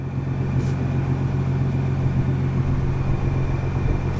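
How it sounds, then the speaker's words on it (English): Nissan GT-R with a straight-pipe exhaust idling hot, giving a steady, deep, even engine rumble close by, with no voices over it. "It's got that GTR classic noise,"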